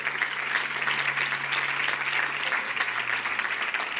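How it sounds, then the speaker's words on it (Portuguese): A church congregation applauds for Jesus during a sermon, a dense, even sustained clapping that fills the room with no voice over it. "Você pode aplaudir Jesus aí só para eu tomar um pouco de água?"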